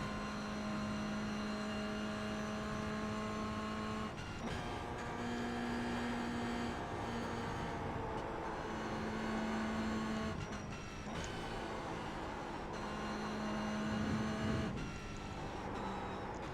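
Toyota GR86 in the iRacing sim at Mosport, a steady droning engine note held throughout with brief dips and blips where the revs are matched on downshifts, continuous and fairly loud with no talking.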